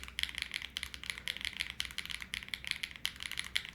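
Rapid clacky keystrokes on a CKW80 mechanical keyboard build, close and steady, with bursts of keypresses in an uneven typing rhythm and no talking.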